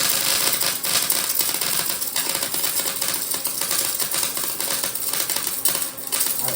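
Arc of a 7018 stick welder fusing a half-inch-thick steel bumper for a Bullnose Bronco: a loud, dense, continuous crackle and sizzle with fast irregular popping, held close and steady for several seconds, no talk.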